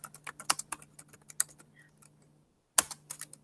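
Fingers type on a computer keyboard, a quick run of close, crisp key clicks that thins out, pauses briefly, then resumes with a few more taps over a faint steady hum.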